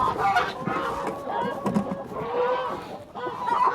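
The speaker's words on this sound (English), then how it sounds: "Hello, chicken. Hello, chickens." Farmyard chickens cluck and squawk in short, repeated bursts close by, with geese nearby and some faint background sounds.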